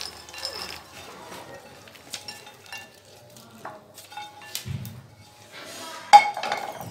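Roasted ingredients and nuts are stirred in a bowl, with soft scraping, occasional clinks of a spoon against the bowl, and quiet rustling between the sounds.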